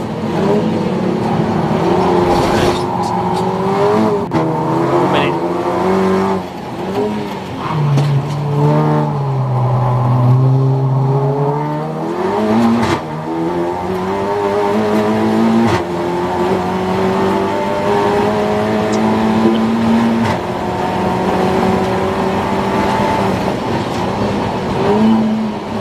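Race cars lapping Croft circuit in a 750MC Roadsports race, Golf TDI and TT TFSI among them: loud, continuous engine drone with pitch sweeping as cars pass and rise through gears, several machines overlapping throughout.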